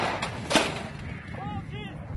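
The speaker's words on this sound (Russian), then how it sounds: "Откат! Выстрел! Выстрел! Рапира 100 мм." A Rapira 100mm anti-tank gun fires once, a sharp, heavy blast with a short rumble, heard from some distance in a brief burst amid shouting.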